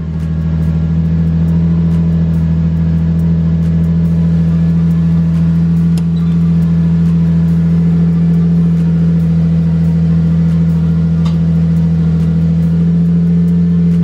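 A Lexus IS300 fitted with a stage 3 clutch runs in first gear, its engine holding a steady, close, even drone with little change in pitch, alone without talk.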